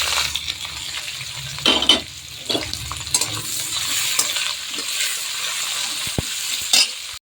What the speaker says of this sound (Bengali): আর শুকনো লঙ্কা দিয়ে আমি একটু ফোড়ন দিয়ে দিলাম। একটু ভালো করে একটু ফ্রাই হয়ে যাক, আমি পেঁয়াজগুলো দিয়ে দিলাম।